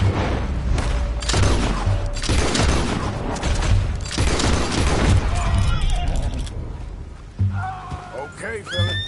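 Loud, rapid gunfire in a video game, dense overlapping bursts of shots filling most of the stretch, followed by a horse whinnying near the end and other game sounds.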